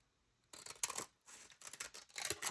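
Scissors cut through craft materials in a few quick, close bursts of crisp snipping, separated by short pauses in a quiet room.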